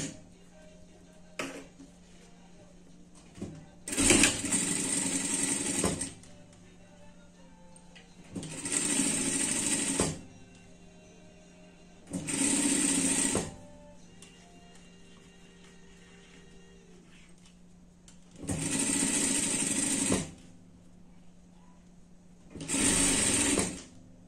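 A sewing machine runs a three-step zigzag stitch along a dress seam in five separate bursts of steady mechanical whirring, close and loud, with quiet pauses between them.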